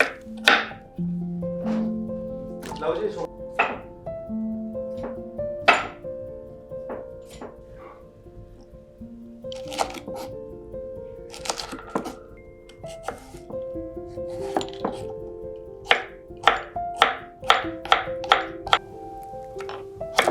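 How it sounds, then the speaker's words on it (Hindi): Vegetables are chopped into uniform pieces on a board, with a series of crisp knife knocks that quicken into a brisk run toward the end, backed by soft background music. "बस ध्यान रखें कि सब्जियों को एक ही साइज में कट करना है ताकि वो यूनिफॉर्मली कुक हो।"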